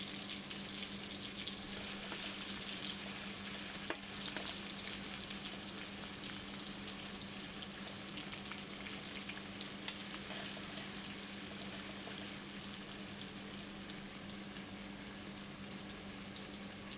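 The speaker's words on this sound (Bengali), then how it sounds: "আমি এর মধ্যে কিছু পেঁয়াজ কুচিয়ে দিয়ে দিচ্ছি। দেখুন, এটাকে হালকা আমি ফ্রাই করে নেব।" Chopped onions frying lightly in hot oil in a wok (kadai), a soft continuous sizzle with a faint steady hum and occasional small clinks, fairly quiet and without speech.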